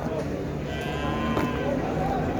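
Sheep bleat at a small-livestock market in Şarkışla, drawn-out wavering calls rising over a constant dense crowd din, with people talking throughout.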